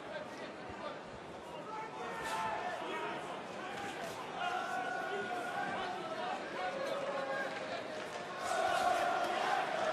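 A boxing crowd at the Fedor Chudinov vs Frank Buglioni fight chanting and singing for Frank Buglioni, a steady distant roar of massed voices swelling near the end, under a commentator's voice.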